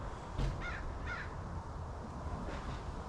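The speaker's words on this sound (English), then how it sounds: "as I'm sitting out here listening to the birds chirp" Crows caw outdoors on an evening just after sunset in the Vancouver, Washington area, giving a few harsh, fairly faint calls spaced across a quiet background.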